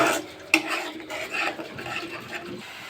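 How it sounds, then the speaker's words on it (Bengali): Spice paste of ground onion, garlic and green chili is stirred and sautéed in a pan with cumin for a thin mustard tangra fish curry. A utensil scrapes and clinks steadily under soft frying, with one sharper knock near the start and no talk. "এবার মশলাগুলো খুব সুন্দর করে কষিয়ে নেব।"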